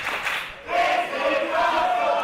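Wrestling crowd at an FSW title match, a loud sustained roar of cheering and shouting that dips briefly then swells again, filling the arena continuously.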